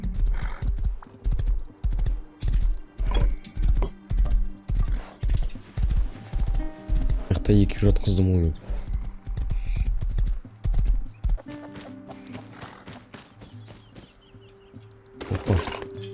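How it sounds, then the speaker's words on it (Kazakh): A horse in the video game Rust trots with rhythmic, close hoof clip-clops that run steadily for several seconds, then a whinny and some scattered impacts, with someone speaking briefly over it. "О, еще лошадка."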